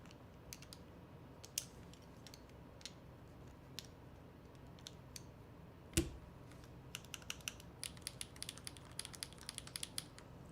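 Typing on a clacky mechanical keyboard, a TKL board fitted with HMX KD200 switches: faint, quick irregular key clicks in short bursts, with one sharper clack near the middle and no voices.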